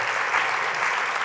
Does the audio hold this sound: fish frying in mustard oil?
no